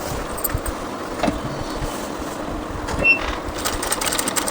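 A sewing machine runs steadily along the folded one-inch edge of a petticoat hem, a continuous mid-level mechanical whir with a few brief clicks and no voices over it.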